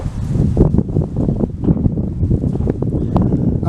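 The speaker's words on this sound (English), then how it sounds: "It's a little windy out today, so I hope that doesn't give me any trouble." Wind blows outdoors during a flint and steel fire-starting demonstration, buffeting the microphone in uneven low rumbling gusts that rise and fall continuously.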